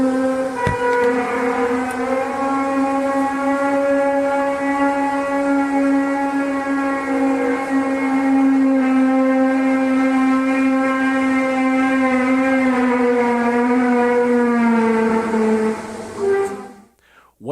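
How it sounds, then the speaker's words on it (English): An unexplained sound in the sky, like a brass section of an orchestra warming up: one loud, sustained, wavering horn-like tone with rich harmonics that drones on steadily before cutting off abruptly. "captured a sound that sounds a little bit like a brass section, the brass section of an orchestra warming up"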